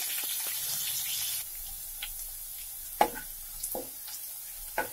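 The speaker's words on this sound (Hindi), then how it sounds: "तेल गरम हो गया है और हम प्याज डाल देंगे।" Onions and green chillies fry in hot oil with a soft, steady sizzle, broken by a few sharp clinks and stirring knocks from a utensil in the pan.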